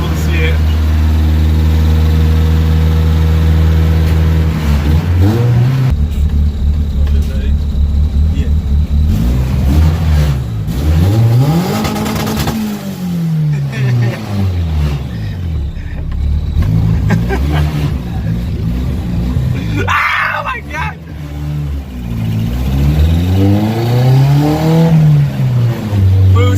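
A turbocharged Honda EG hatchback revs hard and loud nearby, its engine climbing and falling through repeated pulls and shifts, then accelerating away and coming back, with people talking over it.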